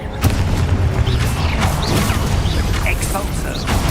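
A Confringo fire spell blast from Hogwarts Legacy, a loud, dense burst of crackling, booming energy with rumbling low end that sustains steadily across the clip, punctuated by a few sharp impacts.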